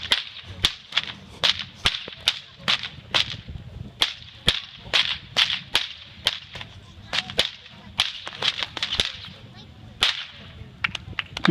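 Sharp whip cracks from longer whips at a whip-cracking performance at the Walgett Show, roughly two dozen loud snaps in a quick, uneven rhythm over a low murmur of crowd.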